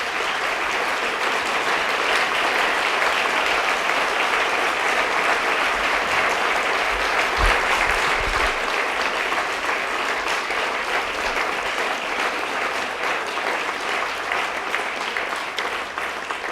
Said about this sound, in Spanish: Gracias por el aplauso, Antonio, gracias por aplaudir.